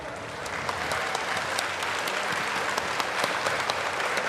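An audience at Taiwan's 2023 National Day ceremony applauds, a dense, sustained clapping from a large crowd that stays steady throughout.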